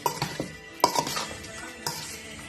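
Salt and spices being stirred into liboke ya ngulu in a pot: a spoon scrapes and clinks against the metal in several sharp knocks and rattles, close and fairly quiet, with no talking.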